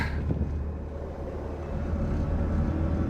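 A 1998 BMW 328i rolling slowly, a steady low rumble of engine and road noise from inside the car, continuous and fairly loud with no talking.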